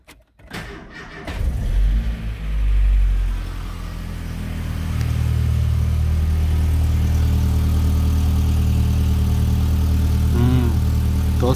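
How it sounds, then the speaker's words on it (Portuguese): A Volkswagen Gol engine cranks and catches after its fuel pump pressurizes, revs briefly, then settles into a steady, even idle that runs on without pause in a garage. "Vamos ligar o carro aí."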